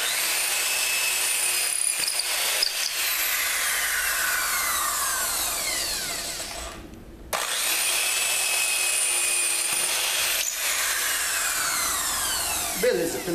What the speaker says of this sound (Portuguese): Agora é só a gente fazer os furos finalmente